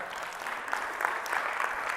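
A small audience at an event claps steadily for a couple of seconds, a fairly even wash of hands at moderate distance.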